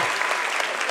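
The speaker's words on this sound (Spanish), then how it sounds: "¡Fuerte aplauso, fuerte!" A live comedy show audience in Bogotá breaks into brief, dense applause, a short burst of clapping heard up close.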